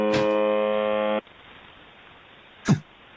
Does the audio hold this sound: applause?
no